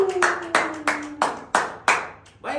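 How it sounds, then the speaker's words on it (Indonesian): Hands clap in a slow, deliberate series of about seven loud, close claps with short room echo, over a faint sustained background tone. "Tepuk tangan dulu."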